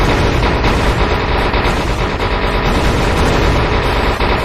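Loud, sustained automatic gunfire from a video game machine gun pours out in a dense, unbroken stream with no let-up, without any voices over it.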